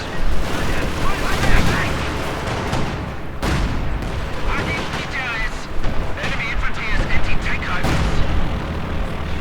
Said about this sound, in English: Light artillery barrage ready to launch.